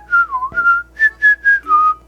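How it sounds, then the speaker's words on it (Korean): One person whistles a short melody, clear and close, with sliding notes followed by several sustained, evenly paced tones. "저도 휘파람을 그래 나쁘지 않게 분다고 생각을 했거든요."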